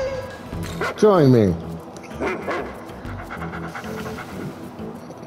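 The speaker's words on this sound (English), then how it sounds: "Makes actual dog noises." Dog-god enemy in Shin Megami Tensei V lets out a loud whining bark followed by quieter panting and yips, with a person talking over parts of it.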